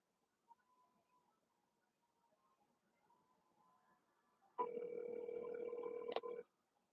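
A telephone rings during an outgoing call. Faint hissy line noise comes first, followed by a single loud, close electronic ring tone lasting about two seconds.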